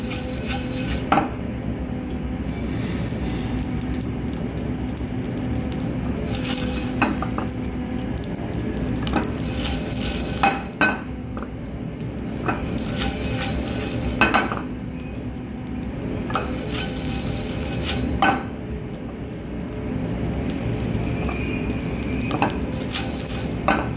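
Spices for Amritsari chole heating in a pan, a steady low sizzle with occasional clinks of a utensil against the pan, close and continuous with no talking.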